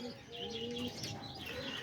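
Pet birds calling indoors, a mix of lovebirds, parakeets, cockatiels and diamond doves, with overlapping chirps, tweets and soft coos close by and continuous throughout.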